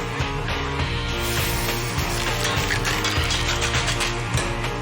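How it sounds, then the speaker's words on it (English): Mussels in their shells are shaken in a hot cooking pan, producing a dense, continuous rattling clatter, close and loud, with no talk over it. "Now, shake it. This turns the mussels around, almost like being put in a tumble dryer, so they cook evenly."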